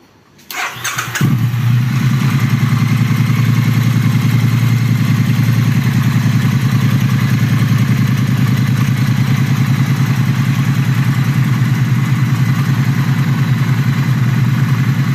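A motorcycle engine cranks and catches, then settles into a loud, steady idle that runs evenly close by for the rest of the span, with no one speaking.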